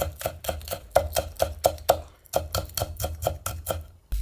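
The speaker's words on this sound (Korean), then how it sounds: "채를 썰어요" A knife julienning a rolled-up green onion on a cutting board gives quick, crisp taps close by in a steady rhythm, about a dozen strokes with one brief pause partway through.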